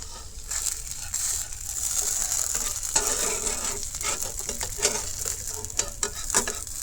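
A jackfruit rice pancake sizzles steadily in a pan as it is slowly flipped over, with a continuous close frying hiss and a few scraping and tapping sounds.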